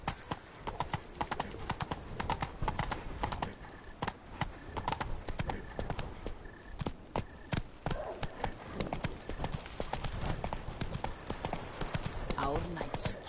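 Hooves pound in a fast, steady clip-clop as the horse Roach gallops in The Witcher 3: Blood and Wine, continuous and close, with voices in the background.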